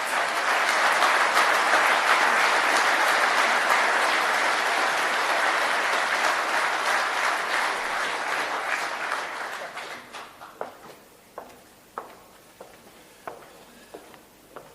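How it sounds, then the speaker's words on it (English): An audience in Doncaster applauds candidate Karl Hughes at a Reform UK event, with loud sustained clapping for about ten seconds that fades into a few scattered claps. "If you'd like to give him a round of applause, I'd be grateful as well."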